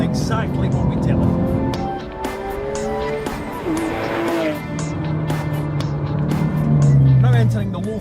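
A Porsche 911 GT3 engine revving hard toward its 8,200 rpm limit on a handling circuit, pitch sweeping up and falling back across shifts, loud and close, with a voice talking over it.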